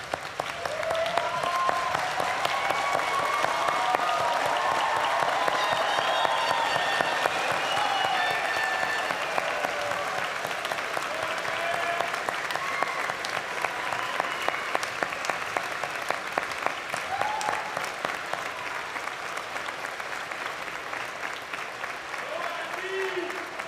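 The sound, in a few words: standing ovation applause from graduation audience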